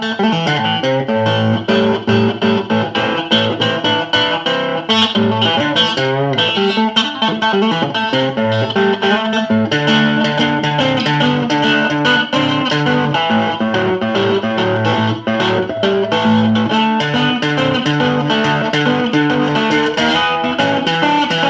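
A cigar box guitar fitted with a humbucker pickup is played fingerstyle through distortion, giving a continuous gritty run of plucked notes and bass lines at steady volume for over twenty seconds, with no talking.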